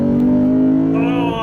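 Naturally aspirated 5-liter V8 of a 2019 Lexus GS F revving, a loud, close, sustained engine tone that climbs in pitch toward the end.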